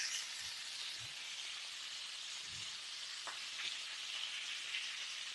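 Indian-style prawn skewers fry in a pan with a continuous bright crackling sizzle, steady and close, broken by a few faint low taps from the pan.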